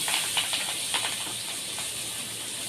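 Turmeric and spices sizzling in a hot pan before coriander goes in, for a quick cauliflower dish; a close, steady hiss of frying with soft crackling pops scattered through it.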